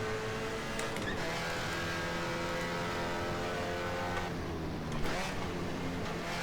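Mazda MX5 Spec Miata race car engines from the rFactor 2 video game drone steadily at the Indianapolis road course, several cars close together, with a near engine holding a constant high whine that dips briefly as it shifts.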